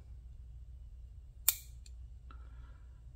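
A Roxon M4 mini EDC multi tool snipping a nail: one sharp, close click against a quiet background hum, followed by two softer small clicks.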